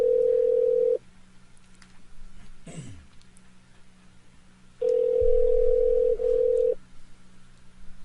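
Two long steady telephone ringback tones sound while calling a phone, each lasting about two seconds, separated by a quiet gap with a brief rustle and background hum.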